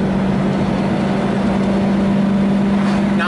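A 1991 Subaru Sambar 4WD kei van engine drones steadily while driving, a constant low hum with road noise inside the cabin.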